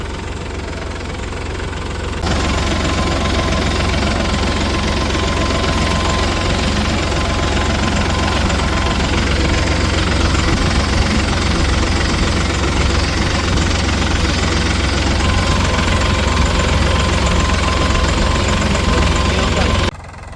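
A tractor engine runs loud and close, a steady rumbling drone with a knocking throb that swells after a couple of seconds and holds on until the end.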